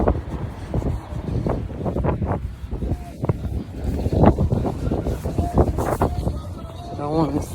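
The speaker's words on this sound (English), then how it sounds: "It's windy." On a cold Sunday morning in New York City, wind buffets the microphone in a continuous rumbling gust while people talk over it nearby.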